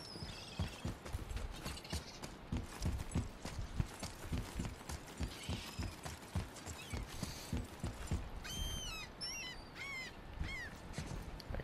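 Horse hooves clip-clop at a steady trot in the video game God of War, with mechanical clanking and game music layered beneath and bright chirping effects near the end.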